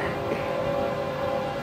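A freight train on the Florida East Coast line rumbling past, a steady dense roar with a sustained tonal hum, continuous and loud throughout with no pause.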